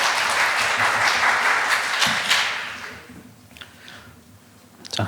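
Audience applause at a corporate governance seminar welcoming a university accounting professor, dense and steady at first, then fading out after about three seconds to a few scattered claps and a final thump.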